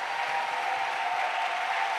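A church congregation clapping during worship, a dense continuous roar of hands heard in a short, loud, even burst with no pauses.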